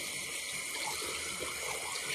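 A bathroom tap runs steadily while a face sponge is rinsed under it, a continuous close hiss and splash of water with no talking.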